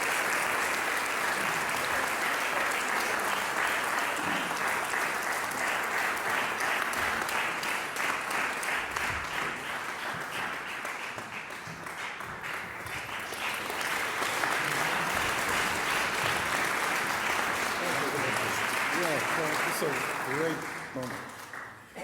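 Sustained applause from a large audience fills the space, a dense continuous clatter of clapping that swells and fades slightly before tapering off.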